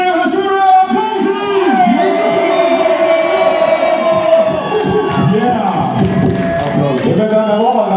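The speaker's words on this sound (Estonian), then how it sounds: "Teeme ühe suure aplausi!" A festival concert crowd roars and cheers for a long stretch, with sustained shouts, whoops and voices blending into a loud, dense wall of noise that rises and falls.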